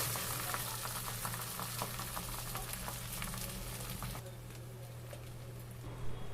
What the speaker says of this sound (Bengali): ফোড়নটা ভালো মতো হয়ে গেলে এর মধ্যে দিয়ে দিলাম ভাত